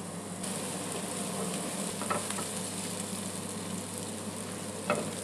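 Onions frying in olive oil and butter in a pan over medium-low heat, a soft, steady sizzle with a couple of light stirring scrapes, quiet and without speech.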